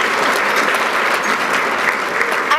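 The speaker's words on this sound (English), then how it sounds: "Big round of applause" Dense, loud applause from the audience at a State of the Town event fills the space evenly, a continuous roar of many hands clapping together.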